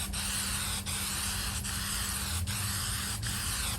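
A continuous close hiss of spray paint on a metal tool box, loud and steady, broken by short pauses roughly every second.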